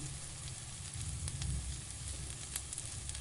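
Ginger, garlic and onion sizzle steadily in a hot pan while being cooked down for a home-style chicken korma, a soft continuous crackle heard close up with a few sharper pops and no talking.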